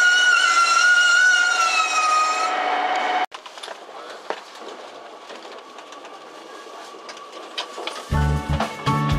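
A JR Kyushu Sonic limited express pulls out of Kokura station, heard from inside the car: a loud high whine at first, then a quieter rumble with light rail clatter and a few clicks.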